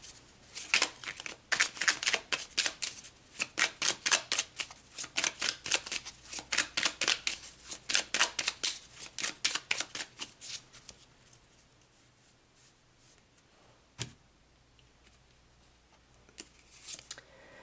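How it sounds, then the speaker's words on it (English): Oracle cards are shuffled by hand for a card reading: a rapid run of crisp, riffling flutters in steady bursts for about ten seconds, then slowing to a few scattered soft slaps and taps, close and fairly quiet. "let's pull a few cards to wrap this message up for you guys"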